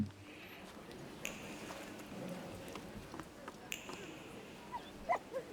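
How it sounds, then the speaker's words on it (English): A dog in The Thaumaturge, an RPG set in early 20th-century Warsaw, gives a few soft yips and whimpers amid quiet game ambience, with short sharp sounds near the end. "Can we pet the dog?"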